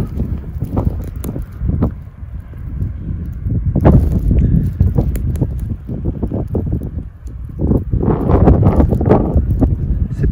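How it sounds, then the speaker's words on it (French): Strong blizzard wind blows during heavy snowfall in the Auvergne mountains near a station, with loud gusty buffeting and rough thumps on the microphone that swell and ease without pause. "Oh, ce vent."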